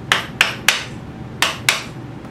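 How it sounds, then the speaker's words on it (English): Five sharp metallic whacks from a hammer straightening a bent bracket on a Yamaha Radian motorcycle, three quick blows, a short pause, then two more, close and ringing briefly. "now I have easy access to the bent tab, bent bracket. Give it a few whacks."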